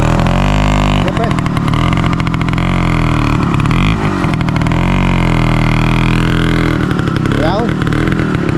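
A motorcycle engine runs steadily throughout the ride, loud and close, with its pitch rising and falling as the rider throttles, and a voice talks briefly over it.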